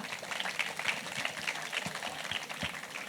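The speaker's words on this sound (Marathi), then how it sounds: "टाळ्या होऊ द्या सगळ्या पात्रांसाठी." An audience applauding the performers at a college cultural fest: a fairly faint, continuous patter of many hands clapping, heard from a distance and steady throughout.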